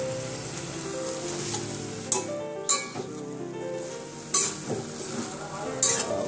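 Paneer gravy with turmeric frying in a pan: a low steady sizzle beneath repeated scraping strokes of a spoon, with several sharper clacks against the pan spaced a second or two apart.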